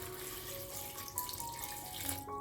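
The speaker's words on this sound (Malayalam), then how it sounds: "ഈ കുക്കറിലേക്ക് നമുക്ക് ആവശ്യമായ വെള്ളം ഒഴിച്ചു കൊടുക്കാം." Water poured into a pressure cooker holding washed, cut potatoes makes a close, continuous trickling splash for a couple of seconds, with a few faint clinks and no talking.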